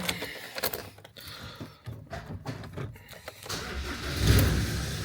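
A Ford F-350 pickup engine cranks and catches, rising into a steady, louder idle near the end, recorded close by without speech.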